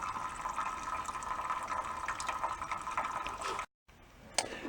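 Water and gasoline drain from a portable generator's fuel tank into a pan, a steady faint trickling and splashing of liquid that cuts off briefly near the end before resuming.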